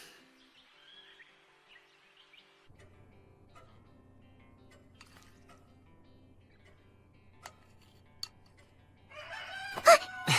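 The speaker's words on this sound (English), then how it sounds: "That's a rooster." A rooster in the countryside crows loudly near the end, after a long quiet stretch with faint low background hum and a few scattered clicks.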